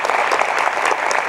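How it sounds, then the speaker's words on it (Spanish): An audience at a lecture breaks into loud, dense applause, a close, continuous wash of many hands clapping with no speech over it. "pido para ella un fuerte aplauso"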